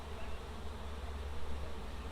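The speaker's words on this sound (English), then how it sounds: "Looking at my bees. Lots of honey on that frame." Dense, steady buzzing of many honey bees fills the air close by at an open beehive on a hot summer night, with no one speaking.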